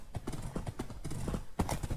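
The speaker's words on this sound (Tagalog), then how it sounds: "Ano, kabayo ni Gandalf eh." Horse hooves clip-clop in Minecraft, a quick irregular run of hollow thuds up close, with a louder clatter near the end.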